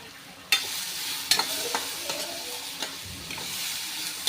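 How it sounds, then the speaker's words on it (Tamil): Cooked chana dal stirred into a sizzling tempering with asafoetida in a pan, giving a steady frying hiss with sharp scraping stir strokes and clatters at intervals, with no talking. "இதை நல்லா தாளித்து விட்ட பிறகு"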